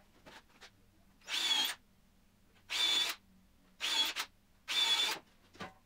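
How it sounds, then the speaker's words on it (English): A power drill bores and countersinks into 2x4 lumber in four short bursts of high whining, each about half a second, separated by quiet gaps, with faint handling noises in between. "I did do some drilling and countersinking just in case I split the 2x4s."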